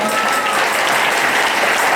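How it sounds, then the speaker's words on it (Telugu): Congregation applause at a Good Friday celebration in a garden at Govindupalle, Jagtial, a dense continuous wash of many hands clapping loudly and steadily throughout, with voices faintly mixed in. "అతనితో గట్టిగా చప్పట్లు కొట్టండి"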